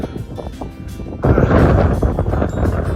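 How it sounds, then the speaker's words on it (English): Strong wind on a mountain summit buffets the microphone in a loud, rumbling roar that surges up and stays heavy, with gusty low noise throughout. "It's so windy."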